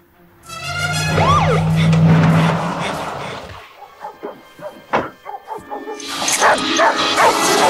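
A dog in a Final Destination (2000) film scene barks and yips loudly, then whimpers in short bursts against a background of rumbling, with a car-like roar and other film sound returning near the end.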